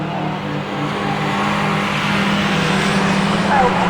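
Autograss race cars roaring around the track on the last lap at St Neots, a steady, loud engine drone with some rising revs throughout.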